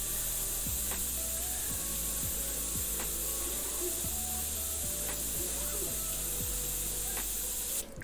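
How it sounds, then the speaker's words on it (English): Old, clogged black spray paint sputters onto a guitar in a steady faint hiss lasting several seconds, with faint rhythmic clicks and tapping underneath. "this black doesn't spray well at all, does it? Because it's old and cloggy"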